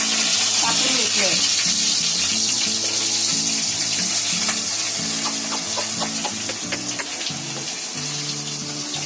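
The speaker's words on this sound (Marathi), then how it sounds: "आता याच्यामध्ये मी कांदा टाकते. हे 2 छोटे कांदे आहेत कापून घेतले." Two small chopped onions hit hot oil with fried garam masala while cooking prawn biryani, setting off a loud, steady sizzle that carries on throughout, with a low tonal hum underneath.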